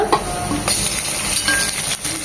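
Ginger garlic paste frying with onion in a pan, a close steady sizzle broken by scraping stirs and light utensil clinks.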